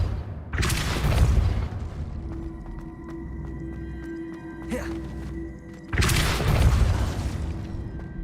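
A Depulso force spell cast in Hogwarts Legacy lands as two heavy, booming blasts about five seconds apart. Quieter tonal game effects hum and chime in the gap between them.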